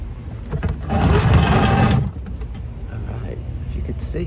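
A garden compost tumbler filled with maturing compost is spun, its drum giving about a second of loud, rumbling mechanical churning before dropping to a quieter, lingering rattle.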